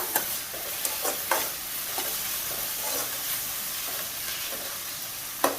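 Onions browned in a pan with tomato pieces added, frying with a steady dense sizzle and hiss, broken by occasional louder scrapes and stirring clatter; no one speaks.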